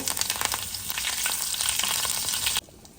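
Mustard seeds, cumin and curry leaves spluttering in hot coconut oil for a tempering, a loud close sizzle with popping crackles that cuts off sharply near the end.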